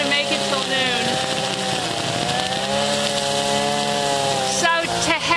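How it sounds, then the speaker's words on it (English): Weed whacker cutting down weeds outdoors, its small engine droning loud and steady with a buzzing, harmonic whine that holds throughout. "He's weed whacking all that junk down."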